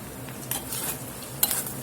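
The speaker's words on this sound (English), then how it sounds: "Get these seasonings mixed in here and let them kind of fry with this burger a few minutes" Ground burger meat fries with garlic powder and cumin stirred in for a tamale pie, a low steady sizzle broken by two quick spoon scrapes against the pan, heard close with no speech.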